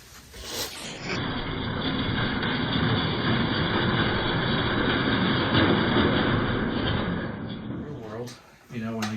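A Lionel model train pulled by a New York Central set locomotive with a helper locomotive added rolls steadily along the track, a continuous rumbling whir that holds for most of the stretch before briefly dropping away near the end.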